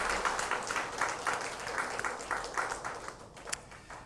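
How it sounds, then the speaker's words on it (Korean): Warm applause from a church congregation during a Sunday worship service welcoming a visitor, a moderate crowd clapping steadily at a distance, with a single sharp clap near the end. "교우 여러분께 인사드리실 때 우리 환영의 마음 담아서 따뜻한 박수 보내주시겠습니다"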